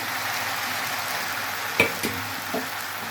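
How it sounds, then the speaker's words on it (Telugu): Tomato pieces frying in oil left in the pan for a broad bean and tomato curry, a close steady sizzle with a few sharp clicks of a spoon stirring. "అదే నూనెలో టమాటా ముక్కలు కూడా వేసేద్దాం"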